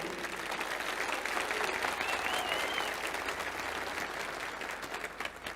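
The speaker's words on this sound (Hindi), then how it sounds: "अगर मैं सच बोल रहा हूं तो आपकी तालियां पहुंचनी चाहिए।" A large audience at a public speech applauds continuously, a dense sustained wash of clapping that holds steady and then begins to thin toward the end.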